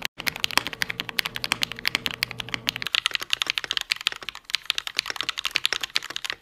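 A $240 mechanical keyboard clacks out rapid, dense key clicks throughout, crisp and close, with a steady tonal hum underneath during the first half.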